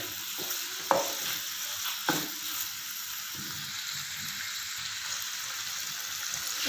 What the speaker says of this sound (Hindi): इनको हम थोड़ा सा फ्राई करते हैं जब तक ये चिकन का कलर चेंज ना हो जाए।